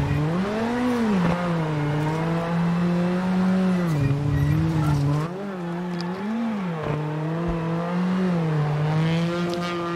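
Rally car engine from the WRC7 video game at the 2018 Rally France, Junior WRC class, droning loud and steady throughout as the revs rise and fall with gear changes, with brief tyre scrabble.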